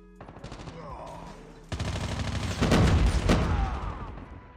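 Rapid bursts of gunfire from the mobile shooter Call of Duty Mobile, including a sniper, rattling loudly and close with sharp reports that build into heavier continuous fire, heard without talk.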